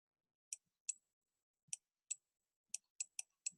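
Short, sharp button clicks spaced irregularly across a few seconds, eight in all, crisp and close in an otherwise silent room.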